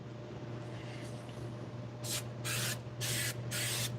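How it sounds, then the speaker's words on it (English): Spray glue hisses from an aerosol can with a partly clogged nozzle in a woodworking shop, four short close bursts after a quiet pause, over a low steady hum. "the thing about these spray glues, if you don't use them regularly, you get this hardening little buildup thing on the end"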